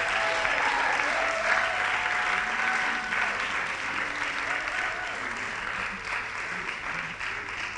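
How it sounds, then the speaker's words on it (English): A conference audience bursts into loud, sustained applause that fills the room, with dense clapping that eases slightly toward the end and no talking over it. "put your hands together for the loudest round of applause to Marina"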